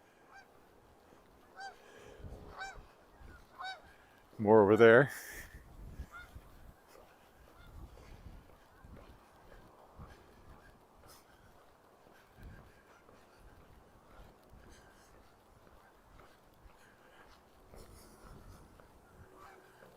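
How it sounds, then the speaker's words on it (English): Geese honk overhead during an outdoor walk along Wascana Creek in Regina, a short burst of distant honks standing out against quiet ambient sound, with someone briefly speaking. "See, there goes some more geese overhead."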